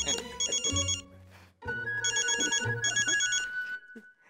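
A telephone rings in a Hindi TV serial scene, two bursts of bright electronic trilling with a pause between them and a sustained tone near the end, loud and close with no talk over it.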